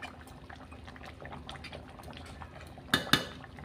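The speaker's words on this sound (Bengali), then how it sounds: "দু মিনিট ফুটতে দিচ্ছি" Village-style chicken curry bubbles in a pot with a faint, steady simmer, then two sharp metal clanks of a utensil against the pot near the end.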